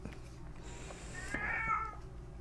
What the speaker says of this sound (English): And there goes my cat now.